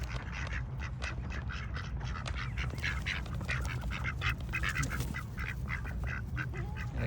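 A group of ducks quacks continuously outdoors, overlapping nasal calls in a busy, fairly close chorus, with some goose-like honks mixed in and no talk.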